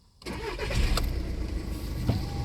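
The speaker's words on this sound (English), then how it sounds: "Start engine." A 2012 Volkswagen Golf diesel engine starting: a quick cranking catch followed by a rough, rattly diesel idle that settles close and steady, with no talk.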